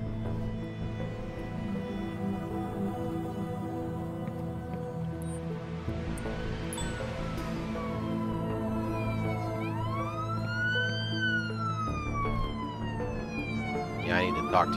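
An ambulance siren wails in the Police Simulator patrol game, its rising and falling tone sweeping steadily over a constant low engine-like hum, fairly loud and close throughout.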